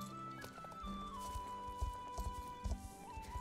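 A horse in the Star Stable Online video game trots with soft, irregular clip-clopping hooves and a brief whinny, set against steady in-game music.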